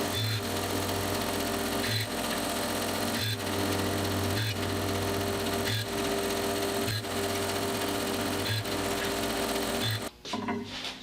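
A band saw with an angled wedge jig cuts a board, giving a steady whirring drone broken by regular short bumps roughly every second, loud and close, ending in a brief clatter.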